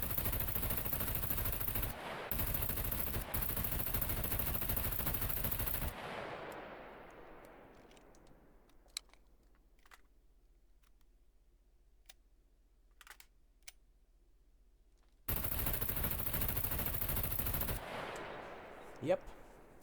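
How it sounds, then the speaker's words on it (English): M249 machine gun fired in the video game SCUM at a turret, long sustained bursts of rapid automatic fire, loud and close, separated by a quiet pause with faint clicks before another burst. "We move to another rapid fire machine gun."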